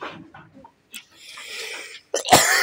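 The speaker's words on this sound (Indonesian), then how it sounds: "Duh, batuk." A few scattered faint vocal sounds give way to a sudden loud, harsh cough near the end, close to the microphone.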